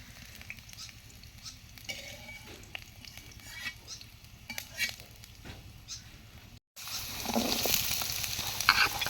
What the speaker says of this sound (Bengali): তো ওই তেলে দিয়ে দিল আলুগুলা। আলুগুলা এখন ভেজে নিবে।